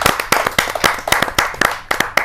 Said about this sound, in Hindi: जोरदार तालियों के साथ आमंत्रित करें